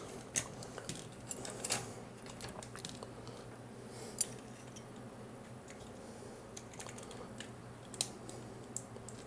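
Small plastic parts of a Sentinel Riobot R-17 Shin Getter 1 toy robot give a few sharp, sparse clicks as its hands and arm are swapped, close and quiet against a faint room background.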